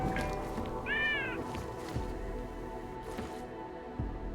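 A cat meows once in Deus Ex: Mankind Divided, a short, clear, rising-and-falling cry over a steady background hum of game ambience.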